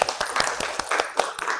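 Hands clapping in a classroom, a regular rhythm of about ten sharp claps at an even pace, fairly close and clear with faint room noise between them.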